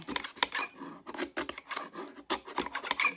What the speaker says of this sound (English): We will trim, trim, trim close to the edge.